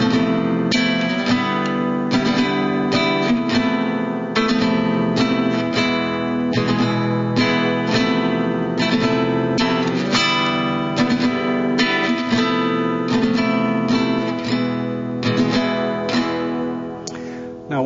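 Classical guitar playing Malaguena, a steady stream of fingerpicked and strummed notes with a rhythmic, repeating pattern, close and clear, continuing throughout with no talk.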